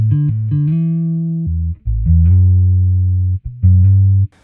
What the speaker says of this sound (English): I played the bass line on my guitar because I don't actually own a bass, and then I pitched that down one octave to get the bass sound you hear